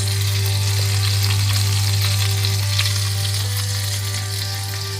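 Food stir-fries in a hot pan in a home kitchen, a steady, loud sizzle that holds the whole time, with a constant low hum underneath and no talking.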